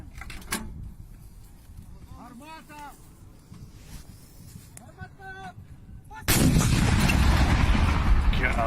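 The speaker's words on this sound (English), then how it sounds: "The piece is firing once more, and the crew's reloading." An artillery piece fires in the Ukraine war, one heavy blast bursting out near the end and giving way to a loud sustained rumble, after quieter wind and brief voices earlier.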